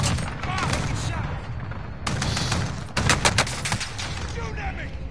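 Rapid gunfire in a video game shooter, bursts of automatic shots broken by short pauses, loud and close, mixed with other battle noise.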